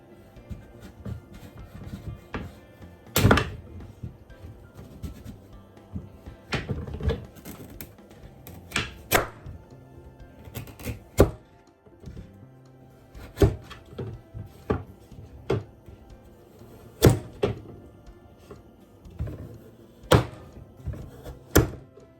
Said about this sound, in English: So I have washed our pumpkin and now I'll be cutting them into smaller pieces